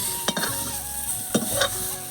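A utensil stirs and lifts fried vegetables from a hot pan during home khichuri cooking, giving a few sharp scraping clinks over a steady background sizzle, close and fairly quiet.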